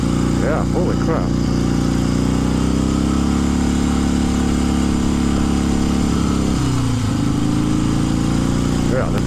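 A 1970 Harley-Davidson XLCH Sportster with a faulty clutch runs loud and close, holding a continuous deep, throbbing engine rumble that dips and shifts partway through. Brief voices can be heard.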